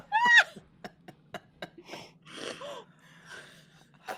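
A person imitates a sharp gasp of someone sleeping, one loud intake near the start followed by softer breathy snorts, wheezes and little vocal noises, close up over a faint steady hum.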